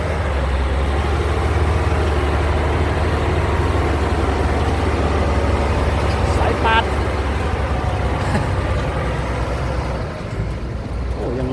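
Six-cylinder engine of a 140G motor grader running loud and close with a steady low drone, while someone talks over it throughout.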